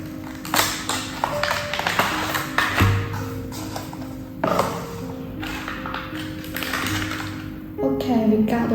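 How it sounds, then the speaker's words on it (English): A magnetic foldable car phone holder's retail box is opened, with scattered taps, clicks and cardboard handling sounds under someone talking close by. "So let's go ahead and open the box."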